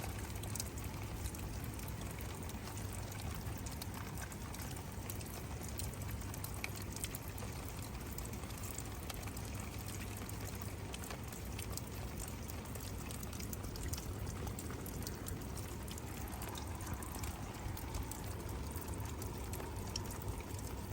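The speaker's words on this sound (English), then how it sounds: "See the water just runs off." Water runs off a wet caravan floor in an Alutec-floored Bailey caravan during a corner repair. It makes a steady, low trickling wash that continues for the whole stretch with no talk.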